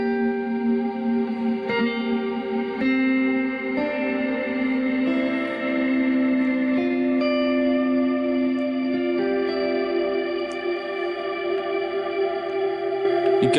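An electric guitar runs through a Line 6 HX One pedal on a particle verb reverb preset, sustained chords and notes changing every couple of seconds and blooming into a shimmering, washy tail, steady and alone without speech.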